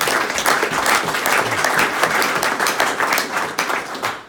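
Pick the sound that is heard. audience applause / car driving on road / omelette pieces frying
audience applause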